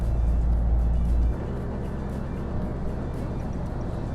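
Petrol engine of a Tata Tigor XZ Plus manual hatchback droning steadily from inside the cabin while driving, a heavier low rumble at first that settles into a constant, even hum.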